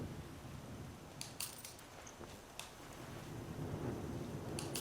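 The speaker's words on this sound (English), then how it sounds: "it sounds like there's a thunderstorm going on" Thunderstorm weather in the video game Skyrim: a low, continuous rumble of thunder under steady rain, with a few sharp crackling bursts partway through and near the end, rising slightly toward the close.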